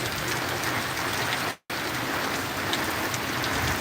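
Heavy hurricane rain pouring down by a garage eave, a dense loud hiss of downpour that cuts out for a split second and then resumes just as steady.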